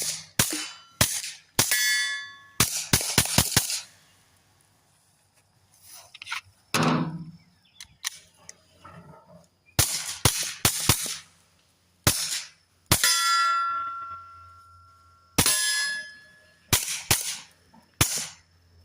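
Sharp suppressed pistol shots from a Kel-Tec P17 crack in quick groups, some hitting dirt and some followed by metallic pings of steel, separated by pauses with faint movement.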